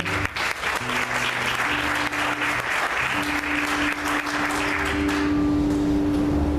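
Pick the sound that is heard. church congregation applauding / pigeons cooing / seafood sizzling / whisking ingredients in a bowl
church congregation applauding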